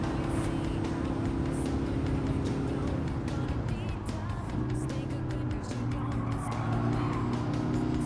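Engines of racing cars in Gran Turismo 7, a loud sustained drone with shifting pitch as an old car overtakes, with a voice talking over the engine noise.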